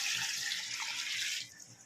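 A short burst of water pouring steadily into a pot of cooked chicken for biryani, splashing bright and close, then tapering off near the end.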